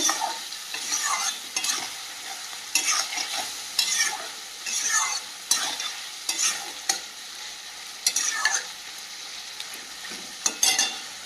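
Half-boiled goat meat being stir-fried again in a pan, with a busy sizzle broken by repeated sharp scrapes and clacks of a spatula in an irregular rhythm, close and fairly loud, no voices.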